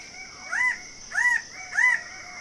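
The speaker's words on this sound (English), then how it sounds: "The red bird of paradise is only found on 4 tiny islands in the archipelago" A red bird of paradise calls three times at even intervals, loud, clear and close, each call a rising nasal note, against a steady background hum.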